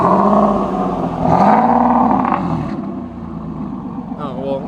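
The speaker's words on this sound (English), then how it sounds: "go ahead and give me like a soft rev" A turbocharged Nissan 370Z Nismo exhaust gives a soft, warm rev, a steady close engine note that swells briefly and settles back to idle, with no one speaking.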